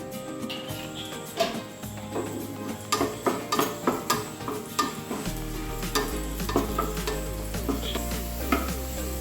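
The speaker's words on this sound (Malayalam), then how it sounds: "കുറച്ച് വെളിച്ചെണ്ണയിൽ നമുക്ക് ചെറിയ ഉള്ളി ഒന്ന് കാച്ചി ഒഴിക്കാം" Small onions frying in coconut oil for a potato curry, a steady crackling sizzle with repeated scraping stirs of a spoon against the pan, close and loud, no voices.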